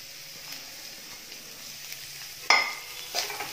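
Chopped cabbage, beans and carrot sautéing in a hot pan for egg fried rice, a low steady sizzle with faint scrapes, then a sharp louder hiss and clatter as the vegetables are tossed and stirred near the end.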